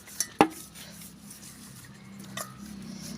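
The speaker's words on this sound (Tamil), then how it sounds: "குண்டான கழுவி கழுவி" Metal pots and utensils being washed, giving a few sharp clinks and clatters early on and another soft knock later, fairly quiet against a low background hum.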